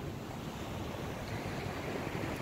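Ocean waves wash steadily onto a resort beach at night, a continuous broadband roar of surf with some wind, dense and even throughout, no voices.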